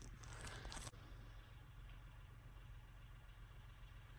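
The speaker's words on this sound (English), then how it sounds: "All I hear is the tractor." A tractor engine idles outside as a low, steady rumble heard from indoors, with a brief louder rustle or clatter close by at the start before the faint motor drone carries on alone.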